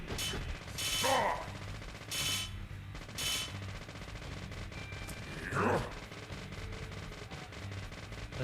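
Gunfire in the video game Deadly Premonition: a few bursts and single shots amid game sound effects and clanking, with voices talking over parts of it.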